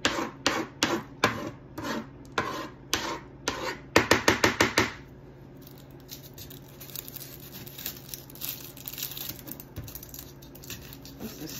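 An onion is chopped on a board for a homemade condiment, with a run of sharp, evenly spaced knife strikes that speed up into a quick burst and then stop, leaving faint rustling and soft handling noises.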